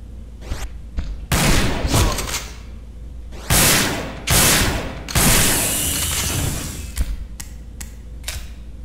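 Assault rifle bursts hit Hunters in Resident Evil: Dead Aim, several loud rapid volleys separated by short pauses, with quieter mechanical clicks between them.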